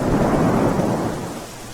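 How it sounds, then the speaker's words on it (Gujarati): Deep rolling thunder rumbles continuously over a heavy wash of falling rain and wind, loud and close throughout, in rural villages near Limbdi, Surendranagar, Gujarat. "ગાજવીજ સાથે પવન સાથે વરસાદ પડ્યો છે"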